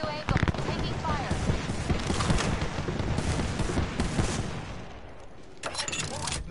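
Video game firefight with rapid bursts of gunfire and booming impacts, dense and continuous, easing slightly near the end before another burst, under a voice talking.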